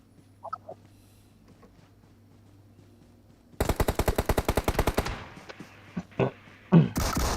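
Video game gunfire in PUBG Mobile: a long rapid burst of automatic rifle shots, about fifteen evenly spaced cracks, then a few scattered single shots and a final loud blast, over a quiet background.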